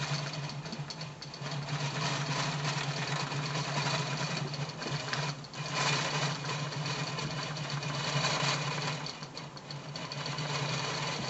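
Longarm quilting machine stitching a pantograph design across a big quilt, a steady close mechanical whir with a constant low hum that runs continuously, with brief dips and shifts in pitch as it moves.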